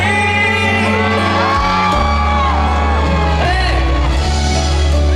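An outdoor concert crowd at the Hualien Pacific tourism festival whoops and screams steadily throughout, layered over loud live music with a sustained, droning backing.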